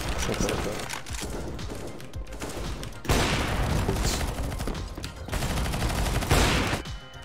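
Rapid bursts of gunfire from CS:GO crackle in loud, dense volleys with brief gaps between bursts, sounding close and continuous over several seconds.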